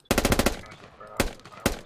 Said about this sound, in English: I'll shoot a few bullets so you can hear.